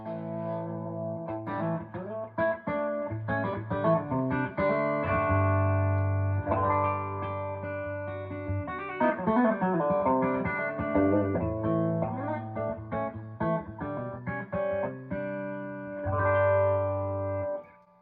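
Electric guitar playing chords and single notes through a modded AC30-style amp with Vintage 30 speakers, warm and slightly driven, with reverb and effects, sustained throughout.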